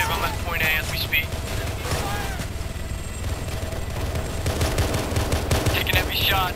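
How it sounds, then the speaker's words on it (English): Heavy gunfire rattles through a sci-fi combat battle in Arma 3 with the OPTRE mod, dense overlapping bursts and cracks running continuously with radio-style voices talking over the fighting. "Taking heavy shots."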